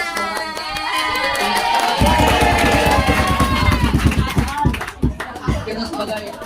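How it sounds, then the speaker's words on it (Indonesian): Rhythmic crowd applause at a pesantren and madrasah competition, many hands clapping steadily and loudly, blending with lively voices and background noise. "Tepuk tangan."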